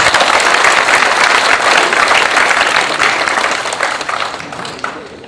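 A large crowd applauds steadily, dense and loud, then gradually thins and fades toward the end.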